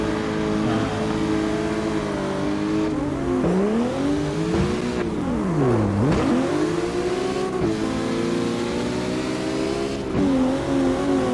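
Drift cars in CarX Drift, among them a Charger chasing close behind, rev hard and continuously, their engine notes rising and dipping through slides with occasional tire squeal, loud and steady throughout with no talk.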